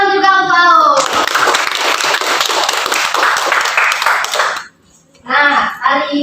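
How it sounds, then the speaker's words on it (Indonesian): A classroom of pupils claps for a classmate, a dense burst of hand claps lasting several seconds, close and loud, with children's voices just before and after. "Tepuk tangan juga untuk Aul."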